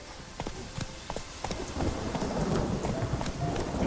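Geralt's horse Roach gallops through the rain in The Witcher 3, hooves clopping in a steady quick rhythm over a constant hiss of rainfall and low rumble, moderately near.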